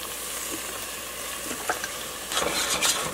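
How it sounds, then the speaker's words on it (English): Beef chili thickened with beef stock simmers in a pan while a wooden spoon stirs and scrapes the bottom, giving a soft, steady sizzle with a few brief scraping bursts near the end and no talking. "Make sure you just clean the bottom of the pan with the wooden spoon or tongs or whatever."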